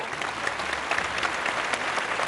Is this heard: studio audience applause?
yes